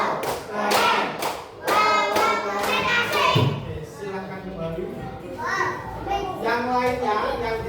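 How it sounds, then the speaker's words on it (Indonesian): Children applauding a group in a classroom, bursts of hand clapping mixed with thumps and taps, under lively children's chatter and an adult voice. "Beri tepuk tangan yang meriah untuk kelompoknya persegi."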